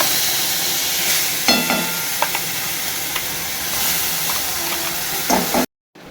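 Ground onion, garlic, ginger and green chilli paste sizzles in hot oil in a pan, a constant close crackle with a few sharp spits and stirring clicks.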